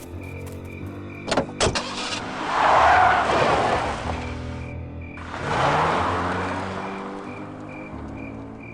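A car drives by in the Full Throttle Remastered video game, rising in two long, loud engine swells after a few sharp opening clicks, with no talk.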